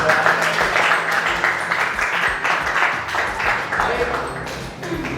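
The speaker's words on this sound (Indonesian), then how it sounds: "Tepuk tangan untuk Bapak." Applause from an audience at an academic supervision session using a coaching approach, a steady broadband patter of claps lasting throughout at moderate loudness.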